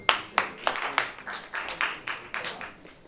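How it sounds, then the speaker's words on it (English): Scattered clapping from a small audience at an authors and readers event, individual claps distinct and uneven rather than a full ovation, fairly close and moderate in volume. "Let's get Ben a good round of applause"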